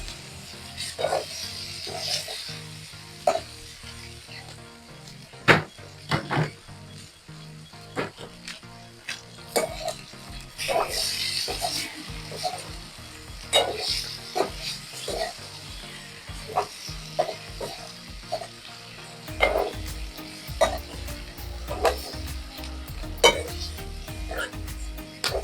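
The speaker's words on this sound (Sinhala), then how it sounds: "කපාගත්ත බිත්තර ටික අපි මේ විදිහට තාච්චියට දාලා හිමීට මෙහෙම කලවම් කරගන්න ඕනේ." Cut boiled eggs stirred in a frying pan for Sri Lankan egg curry, with a faint sizzle and scattered spoon scrapes and clinks at an irregular pace, under a woman's speech.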